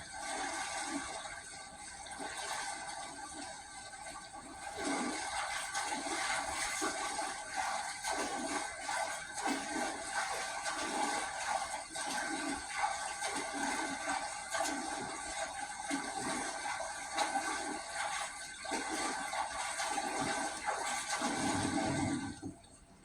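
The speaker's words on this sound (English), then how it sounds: "I'm gonna pick up paddle and paddle back to the land." Steady watery swishing and splashing from a canoe being paddled across water in Red Dead Redemption 2, continuous and close throughout with soft rhythmic strokes and no talking.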